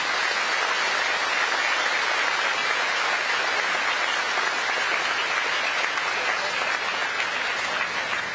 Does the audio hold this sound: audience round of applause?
yes